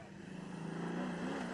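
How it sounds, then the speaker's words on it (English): A little Chevy II race car powers down the backstretch at the King of the Mountain race event, its engine note climbing steadily in pitch as it accelerates, loud and continuous from start to finish with no voices over it. "Little Chevy 2 puts the power down the backstretch"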